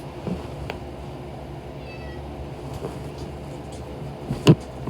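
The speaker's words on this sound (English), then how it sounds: "That's why he's meowing." A cat meows a few times at a moderate distance, with brief soft calls and a sharper sound near the end over a quiet room background.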